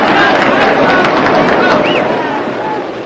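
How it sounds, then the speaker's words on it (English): A baseball crowd at 1945 World Series Game 7, Cubs vs Tigers, applauds the batter Newhouser on an old radio broadcast. The applause is a steady, dense wash of clapping and crowd noise that fades slightly at the end. "There's a round of applause for Newhouser as he comes up."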